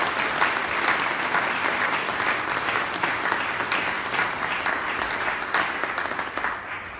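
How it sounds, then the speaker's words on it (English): Dense, steady applause from an audience honouring a research committee at the launch of the National Inuit Strategy on Research, close and loud throughout with no speech over it. "I want everyone to stop and just give them a round of applause for the work they've done."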